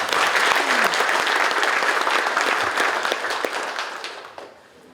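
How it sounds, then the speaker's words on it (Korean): Audience applause at a provincial policy advisory committee general meeting: a full room claps steadily and fairly loudly, then the clapping fades out toward the end. "박수 한번 해주시고."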